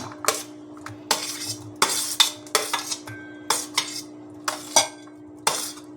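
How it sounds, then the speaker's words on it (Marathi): Chopped cucumber, onion, capsicum and tomato being mixed together in a bowl for a quick sandwich filling, heard as repeated clinks and scrapes of a spoon against the bowl in short bursts, fairly close, with no talking. "तर आता आपण ह्या भाज्या सर्व एकत्र करूया."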